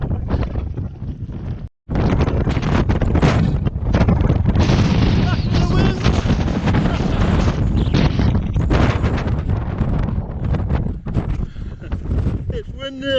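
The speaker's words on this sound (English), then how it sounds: "It's windy again." Strong wind on the Y Gribin ridge buffets the microphone in loud, rumbling gusts that barely let up, with a brief drop-out near the start.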